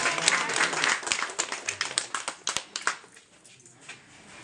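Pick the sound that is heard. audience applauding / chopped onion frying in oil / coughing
audience applauding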